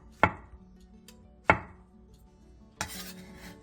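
A knife slices button mushrooms about 0.2 cm thick on a cutting board in a home kitchen: three sharp, close chops spaced about a second apart with quiet gaps between them.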